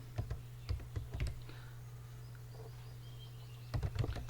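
Close computer keyboard typing while a search is entered in Google Chrome, two bursts of quick rapid key clicks separated by a quiet pause, with a low steady hum underneath.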